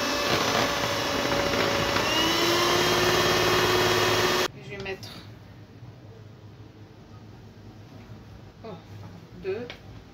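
Electric hand mixer beating eggs and sugar for a pastry-style cake while oil is poured in slowly, a steady loud motor whir that runs for about four seconds and then cuts off, leaving quieter kitchen sounds and a voice.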